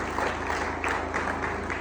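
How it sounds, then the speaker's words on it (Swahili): Steady applause from a church congregation at a Sunday service, continuous dense clapping with a loud, even texture and slight swells, no voices standing out. "Mshangilie Bwana makofi tena zaidi."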